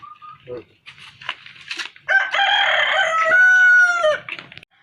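A rooster crows a long, loud cock-a-doodle-doo close by, preceded by a few short clucks and scattered bird sounds in the background.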